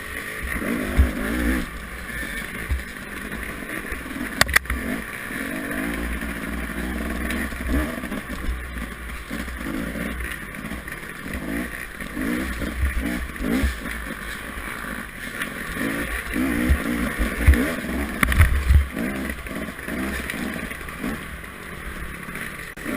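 A motorcycle with a steering damper racing through a snowy course, its engine droning steadily with rising and falling revs under wind buffeting, continuous throughout.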